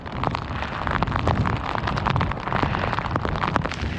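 Heavy rain drums steadily on a jacket hood close to the ear, heard from inside the hood, a dense, continuous patter with gusty rushing underneath and no voices.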